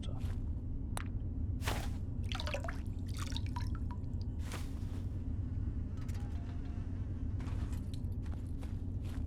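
Water dripping in Fallout 3, scattered irregular drops plinking over a steady low ambient hum, fairly quiet with no talk.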